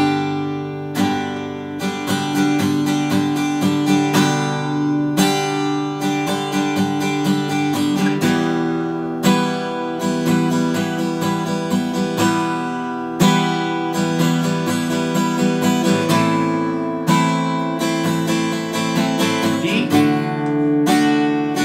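A guitar strums chords for a song in a steady, continuous rhythm, bright and close with repeated downstrokes and no voices over it.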